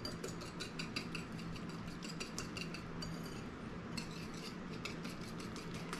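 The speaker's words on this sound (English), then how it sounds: "And then I'm going to whisk this all together." A whisk clatters rapidly and steadily against a bowl while waffle batter is mixed, a continuous close metallic scraping and tapping with no talking.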